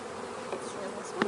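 Honey bees hum around an opened beehive during a nectar-flow check, a low, steady drone with a few individual bees buzzing closer near the end.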